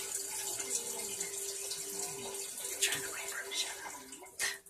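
A toilet refilling in a nearby bathroom, a faint steady hiss and trickle of running water that carries on throughout, with a short louder gurgle near the end.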